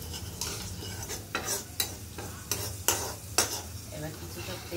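Fish-head and taro curry frying in hot oil, with a soft continuous sizzle broken by several sharp, close scrapes of a ladle being stirred and lifted through the pan, and no talk.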